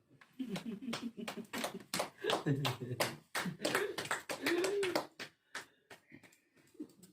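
Hands clap in sharp, separate strikes at a congregation gathering, an uneven rhythmic series mixed with a voice talking or chanting over them, then trailing into a few scattered claps.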